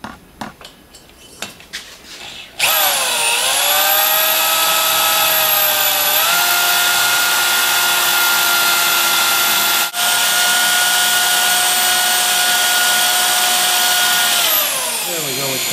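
A power drill on a Harley-Davidson Twin-Cam engine runs loud and steady for several seconds with its bit lubricated with oil, a sustained whine that dips in pitch under load and then rises, after some metallic clatter.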